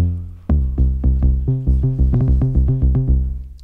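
A synthesized bass patch from the DRC synth plugin plays a bouncy, punchy bassline in short rhythmic notes with a decaying envelope, clean and upfront with no voices.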